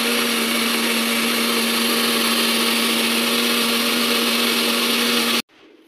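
A large mixer grinder grinds paste in one loud, steady, high-pitched whine for over five seconds, then cuts off abruptly to near quiet.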